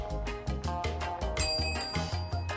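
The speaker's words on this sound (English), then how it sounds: "Hit the bell." A dog strikes a small bell over and over, each bright metallic ring following quickly on the last in an irregular rhythm, with a few strikes clustered close together.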